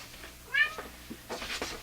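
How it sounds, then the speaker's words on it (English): A cat meows once, fairly close, followed by a couple of softer, breathy chirps and rustling in a quiet room. "Bert, that's my cat."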